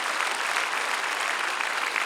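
Loud, sustained applause from a large congregation at a peace and reunification prayer rally held at the War Memorial in Yongsan, Seoul. The clapping forms an even, unbroken roar with no pauses.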